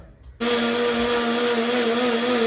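An electric blender grinding tomato, garlic, ginger and cashew with water into a paste kicks on abruptly after a brief quiet moment, then holds a loud, steady high-pitched whirring drone to the end.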